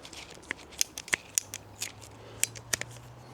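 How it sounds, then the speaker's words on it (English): Ratchet snippers cutting wood outdoors in the woods, a close series of sharp snapping clicks and crunching bites at an uneven pace, with a faint low hum underneath and no talk. "So I'm going to get this wood cut up"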